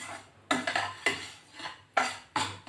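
Semolina is roasted in a pan for sweet shira, heard as a spoon scraping and knocking against the pan in about six distinct strokes, each a sharp scrape fading out, close and moderately quiet with no sizzle.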